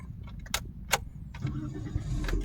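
A car engine cranks with a few rough bursts from the starter, then settles into a low, steady rumble nearby.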